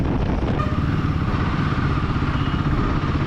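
A Royal Enfield Himalayan 450 rides along a road near Bhuvanagiri, its engine a loud, steady, close drone with rushing wind noise and no pauses.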